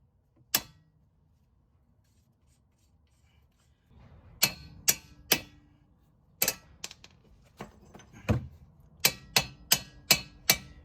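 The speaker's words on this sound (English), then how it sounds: "we're gonna tap it with the hammer" Sharp metallic taps from a hammer on a driver-side CV axle of a 2006 Toyota Avalon, a single strike followed after a pause by a series of irregular knocks, some in quick succession, close by.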